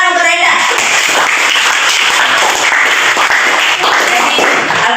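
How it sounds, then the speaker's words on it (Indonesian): Applause from a classroom of students: dense, fast clapping fills the room, loud and sustained, with a short voice at the start before the clapping takes over. "tepuk tangan untuk Brenda."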